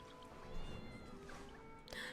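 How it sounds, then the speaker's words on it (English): A cat meows inside the video game Genshin Impact, giving a couple of short, fairly faint cries over soft game music and ambience. "Oh look, a kitty."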